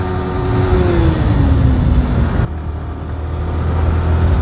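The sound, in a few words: car exhaust sound while driving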